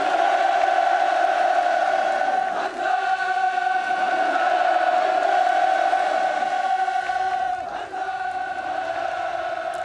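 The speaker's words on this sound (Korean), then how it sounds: "김 위원장이 자리를 옮겨 촬영을 마칠 때마다 함성이 터져 나옵니다." Loud, continuous crowd shouting and cheering fills a large outdoor gathering as commemorative photos are taken with Kim, steady throughout with brief dips and no clear speech.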